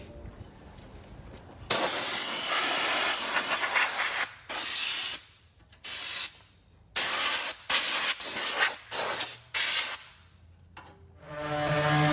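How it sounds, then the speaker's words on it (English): Rust-Oleum Hammered Black spray paint hisses from an aerosol can in a long continuous burst followed by a series of shorter sprays with brief pauses, close and loud, with no talking. "I'm using Rust-Oleum Hammered Black. You don't need to use primer with this, but you do need to shake it a lot."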